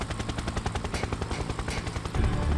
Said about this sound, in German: So, da ist unser Helikopter.